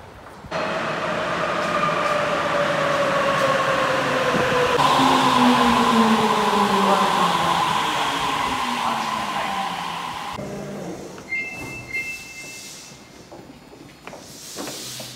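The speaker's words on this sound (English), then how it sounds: "Punta kami ngayon sa may subway station, guys." A subway train at Sapporo subway station roars steadily past, with rising and falling whines and a hissing rush, then the noise drops away and brief higher tones sound near the end.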